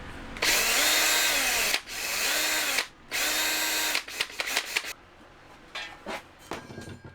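Power drill whines in three long bursts at close range, each rising to a steady high pitch, followed by shorter clicks and rattles of tools being handled.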